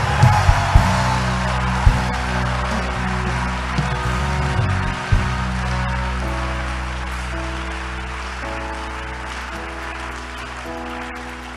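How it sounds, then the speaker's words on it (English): A church congregation clapping for Reverend Fitzgerald Odonko at a Total Restoration Day service, sustained crowd applause with a few louder claps early on, gradually thinning out beneath a steady hall hum. "Clap your hands for Reverend Fitzgerald Odonko"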